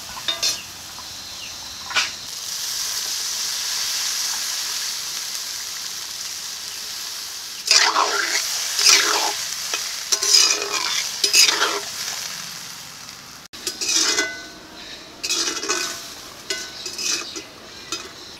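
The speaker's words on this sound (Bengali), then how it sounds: "আলুটাকে মশলার সঙ্গে খুব সুন্দর করে কষিয়ে নিয়েছি, এখন জল দিয়ে দিচ্ছি।" Water goes into a pan of potatoes already fried with spices, bringing a brief hiss and sizzle, then quieter stretches and bursts of stirring and utensil clatter against the pan, close by with no talk.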